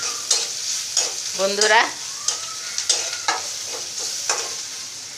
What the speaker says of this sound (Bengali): কাঁচামরিচ ভাজা শেষ